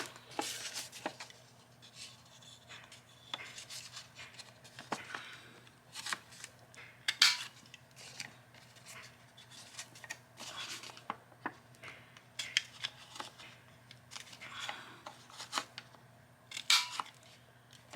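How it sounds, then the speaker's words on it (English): Corner rounder punching through book pages for a handmade journal element, giving a series of short crisp snips and clicks spaced irregularly, with faint paper rustling between them and no talking. "Sometimes this corner rounder works so nicely, and other times it just will not cut at all."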